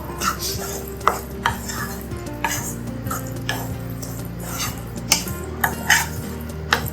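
A spoon stirs grated egg keema in a metal pan, with repeated scraping and clinking strokes at an uneven rhythm, close and fairly loud, with a low steady hum underneath and no talking.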